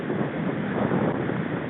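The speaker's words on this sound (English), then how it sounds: "This wind is fierce out here today." Strong wind gusts across a microphone at an open park by the water, a loud, steady roar that fills the short stretch with no voices.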